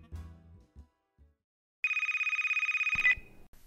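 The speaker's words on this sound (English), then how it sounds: "I was not expecting the phone call the next morning" A telephone rings early in the morning: a steady electronic trill lasting over a second, loud and close, after some brief low rustling and before a handset is picked up.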